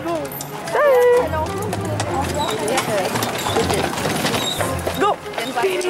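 Horses clip-clopping over a Prague street, hoof strikes steady amid a busy outdoor scene, with people talking loudly close by over the clatter.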